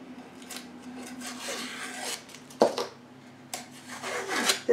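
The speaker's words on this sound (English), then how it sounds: "Anyway, so then I take the tape off." Tape being peeled off the edges of a cradled wood watercolour panel: close, quiet rasping and rubbing tears in a few uneven pulls, with a couple of sharper snaps, no talk.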